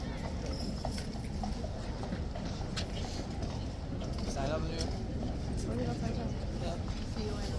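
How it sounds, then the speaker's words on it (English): Hooves of mounted horses clip-clop steadily at a gentle trot outside Horse Guards in London, a continuous rhythmic clatter over crowd murmur and voices. "gently the horses are trotting in"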